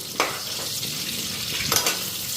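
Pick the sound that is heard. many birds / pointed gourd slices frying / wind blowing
pointed gourd slices frying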